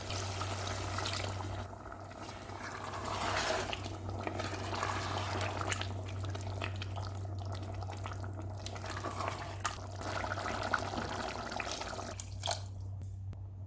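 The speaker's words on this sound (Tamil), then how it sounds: "உப்பு சேர்த்து பரட்டிட்டு தேவையான அளவு தண்ணி சேர்த்துக்கலாம்." Water poured into chicken biryani in a pressure cooker, a soft continuous splashing and trickling that runs steadily throughout, fairly close, with a low steady hum underneath and no talking.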